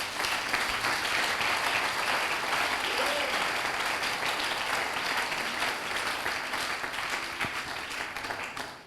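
A church congregation applauds at an evening service, a dense, sustained wash of clapping from many hands that fills the room and tapers slightly near the end.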